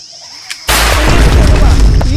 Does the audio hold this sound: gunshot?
yes